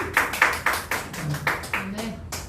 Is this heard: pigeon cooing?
no